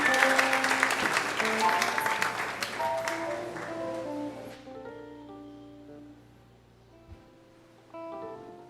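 Church congregation clapping during a worship service, loud at first with sustained music tones underneath, then the clapping thins and fades while the music continues softly.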